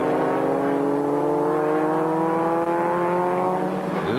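Race cars at Kyalami howl past the finish line close by, engines at high revs with sweeping, shifting pitch as several cars stream through together in a continuous loud roar.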